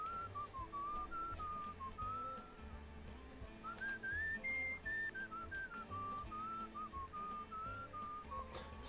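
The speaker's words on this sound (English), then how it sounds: "I will whistle after you." Melodic whistling in the video game Where the Water Tastes Like Wine, a clear wandering tune carried over a soft steady musical backing, moderately quiet and continuous.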